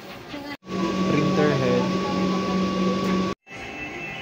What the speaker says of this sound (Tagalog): Printer head clean.